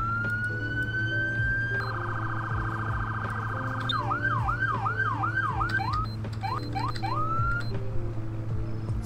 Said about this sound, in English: Here's a quick siren review.